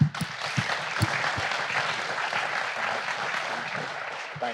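An audience at a live event in Sydney claps steadily, a dense, moderately loud wash of applause with a few sharper nearby claps near the start, then it fades slightly at the end.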